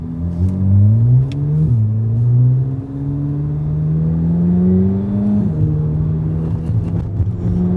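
A C7 Corvette Z06 V8 revs hard through rising gear pulls, its deep engine note climbing, dropping at each shift and climbing again, loud and close from inside the car with no talking.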